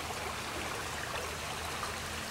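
A creek choked with fallen branches flows with a steady, even rush and trickle of water throughout, close by and with no voices.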